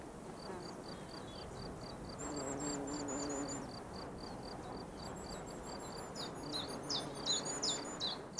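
Wild mountain birds, including shrikes and sparrows, chirp and twitter in quick repeated notes. The calls sit at a distance over a soft background hush, with some fuller bursts of song toward the end.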